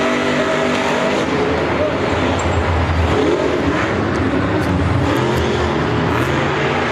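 Monster trucks side by side in second-round racing at Monster Jam Philadelphia 2019, a continuous loud engine roar filling the arena for the whole stretch with no letup, crowd noise mixed underneath.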